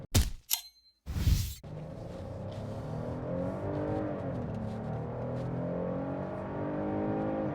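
Full-throttle acceleration from a 2026 Hyundai Palisade's naturally aspirated 3.5-liter V6, heard from the cabin after a few clunks, with a steady rising engine drone that builds continuously.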